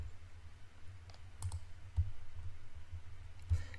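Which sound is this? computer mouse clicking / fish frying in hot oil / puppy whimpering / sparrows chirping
computer mouse clicking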